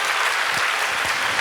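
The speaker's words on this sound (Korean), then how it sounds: "박수 한번 쳐주세요" Congregation applauding during a church sermon, a steady dense wash of clapping that fills the whole moment at moderate loudness.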